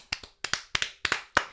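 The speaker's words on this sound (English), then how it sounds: "Clapping for myself is crazy." Five quick pairs of hand claps from one person clapping for themselves, crisp and close, in a steady rhythm with short pauses between pairs.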